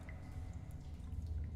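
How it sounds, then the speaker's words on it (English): Water drips in a quiet room during a tabletop role-playing session, soft irregular drops set against a low steady background hum, faint and somewhat distant. "Yeah, I can hear water dripping"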